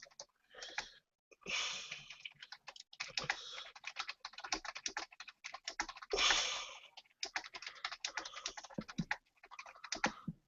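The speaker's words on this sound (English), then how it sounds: "y'all can probably hear me typing" Rapid computer keyboard typing, close and fairly loud, with irregular bursts of clicking keys and short pauses between runs, in a quiet room with no talking.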